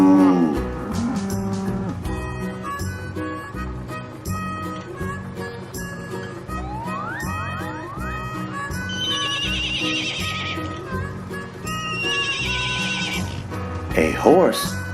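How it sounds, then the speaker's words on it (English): Farm animal calls, including a loud horse neigh and whinny near the end and lowing cattle, play over steady background music, with some hoof clip-clop and a voice in the mix. "A horse goes neigh, neigh."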